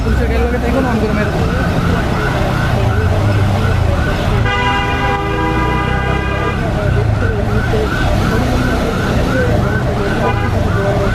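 Ambulance siren wailing steadily on a Dhaka street as the vehicle heads to Hazrat Shahjalal International Airport, loud and close, with traffic noise, honking and crowd chatter around it.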